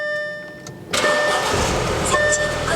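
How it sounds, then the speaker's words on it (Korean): An Audi A4 2.0 TFSI S-Line with key ignition cranks and catches after a faint whirring lead-in, settling straight into a steady, close idle with no talk over it. "일단 시동 걸어서 엔진 소리 들으면서 추가적인 옵션 설명 이어가도록 하겠습니다"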